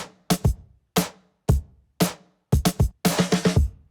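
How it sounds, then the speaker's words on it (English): A dry drum loop of sharp, punchy hits, single beats at first and then quick clustered strikes, with silence between them. "but then I added in these drums from the original song,"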